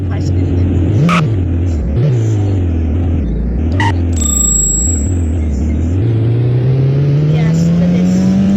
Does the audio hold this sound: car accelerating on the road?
yes